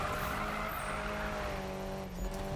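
A Nissan Silvia drifting in Need for Speed 2015, its engine droning steadily under a sustained tire squeal, quiet and continuous.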